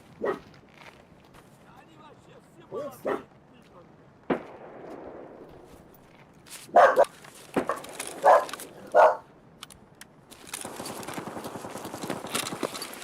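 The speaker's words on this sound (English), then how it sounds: "my doggies was barking." Dogs bark indoors in the background during an online Escape from Tarkov session, several sharp barks in a short cluster, fairly faint, with someone talking and game sounds around them.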